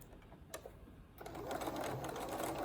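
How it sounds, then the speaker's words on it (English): A sewing machine starts stitching a dart seam after a few quiet handling clicks, its motor rising to a soft, steady whir that continues to the end. "Start out in the seam allowance and back stitch, and then make your way along the line"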